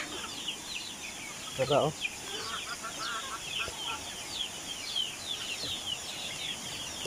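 Soft clucking from a few small chickens penned nearby on a rural farm, steady under a quiet outdoor background, with a voice speaking briefly.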